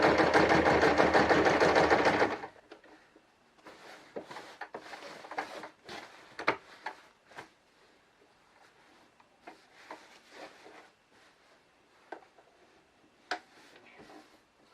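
A sewing machine stitching white fabric, heard as a loud continuous run at first, then short bursts of stitching and handling noises in a quiet room.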